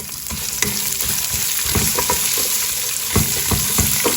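Onion and vermicelli fry in oil for biryani, a loud, close, continuous sizzle with repeated scraping and clinking as a spoon stirs them around the pot, and no voices.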